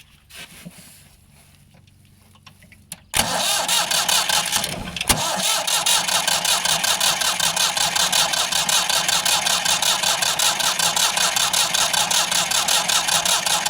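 A Ford 4600 tractor engine is cranked after some quiet shuffling, catches abruptly and settles into a loud, steady, rhythmic diesel idle close by.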